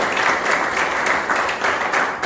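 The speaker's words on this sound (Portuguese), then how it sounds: "Vamos aplaudir nosso Deus." A church congregation claps together during a worship service, a loud, dense burst of applause sustained evenly with no speech over it.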